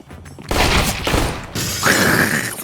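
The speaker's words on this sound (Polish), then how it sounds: "słyszałem jeden pojedynczy, potrojny strzał" Rapid CS:GO gunfire cracks in quick bursts, loud and close, with mechanical clatter and echoing reports layered over one another.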